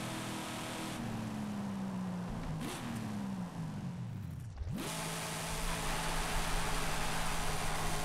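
A Dodge Dart Hemi in Forza Horizon 5 doing a tire-warming burnout, a loud roaring engine whose pitch swings up and down, with a hiss of spinning tires throughout, no voices.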